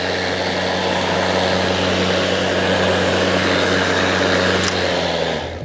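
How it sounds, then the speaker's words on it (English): A Greenworks GD60LM46SP 60V self-propelled battery lawn mower runs close by with a loud, steady whirring hum and broad airy noise, then fades out at the end. "Turn the mower on, pull back the grey handle."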